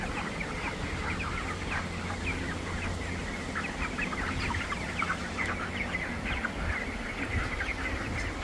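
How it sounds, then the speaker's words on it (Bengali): Broiler chickens crowded in a poultry farm in extreme heat keep up a constant, busy chorus of soft clucks and rapid breathy calls, near and steady throughout with no talking. "প্রত্যেকটা মুরগি হাঁপাচ্ছে।"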